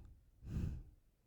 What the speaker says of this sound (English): Exhaling in 4 sniffs.